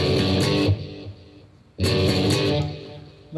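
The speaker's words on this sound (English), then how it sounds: "instead of a normal overdrive" Electric guitar with ordinary overdrive plays a riff from a song, two loud distorted chord bursts separated by a brief quieter gap, close and alone with no voices.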